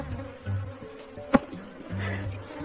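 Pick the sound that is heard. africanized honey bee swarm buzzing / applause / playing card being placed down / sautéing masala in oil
africanized honey bee swarm buzzing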